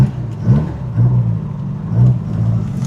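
A blue Porsche 914 with a 2.0 engine drives on the road, its engine note swelling and easing in a few rev rises over a steady low rumble and road whir, fairly close and loud.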